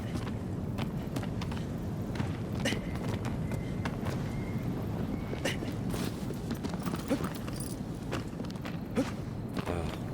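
Agro, the horse from Shadow of the Colossus, moves with steady clip-clopping hoofbeats and faint rattling of tack and buckles, a busy, continuous patter of close footfalls over an outdoor game ambience.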